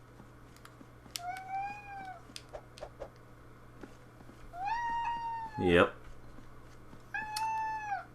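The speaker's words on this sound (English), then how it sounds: "sorry about all the meowing if you hear it" A pet cat meows close by in three drawn-out calls, the middle one rising into a strained yowl, with a brief spoken word and light keyboard tapping in between.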